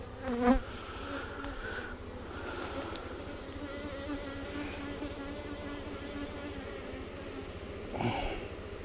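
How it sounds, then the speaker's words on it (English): Honey bees buzzing around hive frames during a calm beekeeping inspection in Texas, a steady close hum of many bees with brief louder passes near the start and end, no talk. "This is when I like to work with my bees. Nice and calm and mellow."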